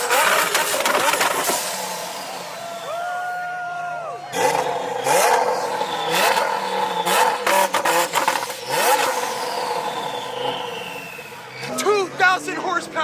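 A 2,000 horsepower Lamborghini Huracan STO revs hard and accelerates away with rising and falling engine pitch and gear changes, loud and fairly close, while a crowd and voices talk over it.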